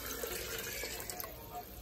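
About six cups of water poured into a pot for Manhattan clam chowder, a continuous splashing, filling rush at moderate level with no talk.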